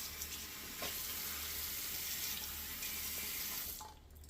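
Tap water runs steadily into a sink while a shaving brush is rinsed out, a continuous close hiss of flow that cuts off near the end.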